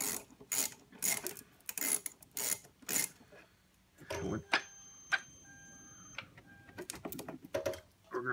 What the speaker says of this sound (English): you're going to take your 10mm socket, you're going to put it on, and you're going to loosen your terminal.